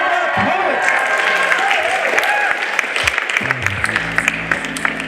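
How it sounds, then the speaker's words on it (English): Applause from a school poetry slam audience for the poets, a steady wash of clapping that carries on throughout, loud and close, with some crowd noise mixed in. "Applaud the poets."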